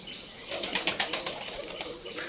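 Pet pigeons, with a quick run of faint wing flaps in the middle and a soft cooing murmur around them, all at low volume.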